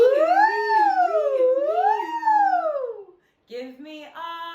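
A voice mimics a siren, sliding up and down in long wailing sweeps for about three seconds, then after a brief pause a shorter rising whoop, close and loud with no other sound.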